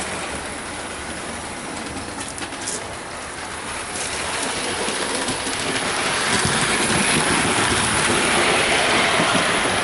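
A Bachmann LMS Jubilee model train locomotive runs along freshly cleaned track with a steady, close whirring rumble that grows slightly louder as it goes, with no voices.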